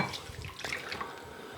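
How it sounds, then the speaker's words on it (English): Warm water poured into a bowl of yeast for homemade garlic and coriander naan bread, a steady close splashing trickle that runs for under two seconds without pause. "So we'll pour the water in"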